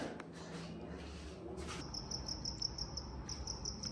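A cricket chirps in a bathroom, its shrill, regular pulsing trill starting partway through and continuing steadily, faint and somewhat distant against a low background hum.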